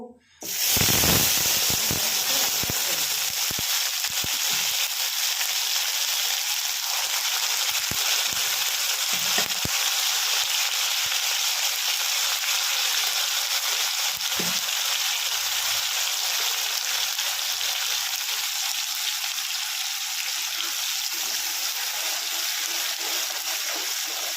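Ginger, onion, garlic and tomato hit a hot pan with a loud hiss that settles into a steady, close sizzle of frying for the whole stretch.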